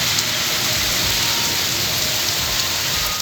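Steady rain pours down in the hill areas around Abbottabad, Nathia Gali, Ayubia and Thandiani, a dense, even hiss of falling water filling the whole stretch without any voices.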